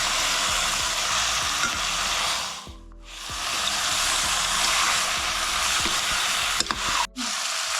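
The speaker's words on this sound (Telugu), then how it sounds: "మొత్తం కలపాలి ఇలాగ చికెన్." Country chicken stirred in a frying pan for a Natukodi Pulusu curry, a steady close sizzle and hiss of frying with scraping stir strokes, briefly dipping quiet around the middle and once near the end, no talk.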